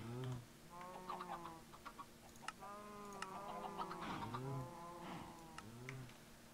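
Chickens clucking in the video game Minecraft, several birds giving repeated short clucks and squawks close by, continuous over a faint background hum.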